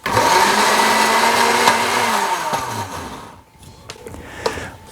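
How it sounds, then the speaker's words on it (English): A blender grinding wild lettuce leaves runs loud and close in a steady high whine for a few seconds. The motor then winds down in pitch and stops, leaving a few light clatters. "grind them up in a blender, not very thinly and only just for a few seconds"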